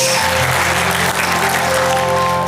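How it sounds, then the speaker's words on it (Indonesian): A church congregation at a Sunday service bursts into loud, sustained applause, a dense wash of many hands clapping together with a faint musical tone underneath. "Tepuk tangan buat Tuhan Yesus."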